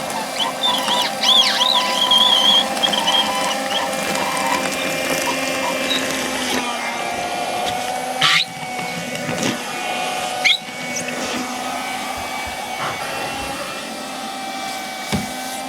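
A Karcher WV2 window vac runs with a steady motor whine while sucking up water, with gurgling and a couple of sharp slurps or clicks partway through, close and alone without talk.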